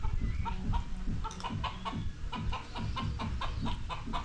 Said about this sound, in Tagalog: Tingnan ng manok.